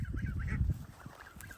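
Six geese in a village honk repeatedly in a close, busy chorus of nasal calls, loud at first and then somewhat quieter.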